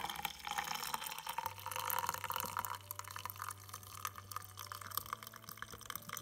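Water from a Breville One Cup hot water dispenser pours steadily into a coffee cup, a continuous near splashing trickle with a low motor hum underneath, no talking.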